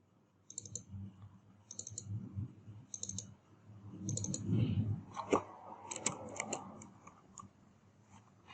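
Computer mouse clicks ring out in crisp, evenly spaced pairs at close range in a quiet room, joined by faint handling noise and a few quicker clicks toward the end.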